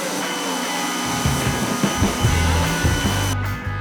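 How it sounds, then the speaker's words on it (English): A pressure washer sprays the frame of a 1975 Dodge Ramcharger on a hot day outdoors, a constant loud hiss with irregular thumps and knocks from the spray hitting metal, cutting off abruptly near the end. "Junior's on it with the pressure washer."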